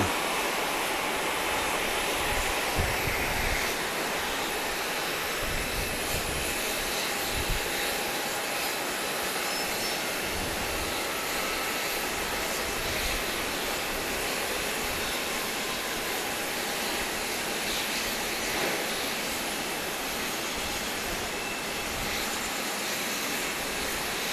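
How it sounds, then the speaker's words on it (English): A Boeing 737-8 arriving at Grand Cayman, a steady broad jet roar heard from a distance for an extended stretch, with wind and faint background noise. "730, first 737-8 in the Caribbean."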